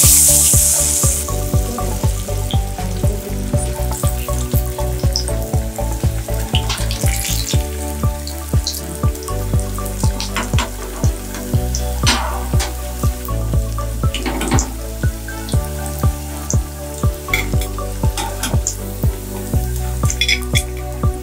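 Banana flower vadas deep-frying in hot oil, a loud continuous bubbling sizzle with a regular pattern of sharper pops and crackles throughout, close and unbroken, with no speech.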